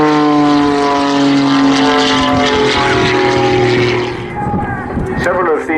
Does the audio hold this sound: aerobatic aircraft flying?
yes